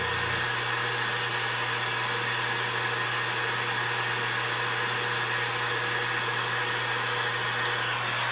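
A paint-stripper heat gun runs steadily as it dries pottery clay, giving a loud, continuous fan whir with a broadband hiss. The sound is constant and close, with no talk.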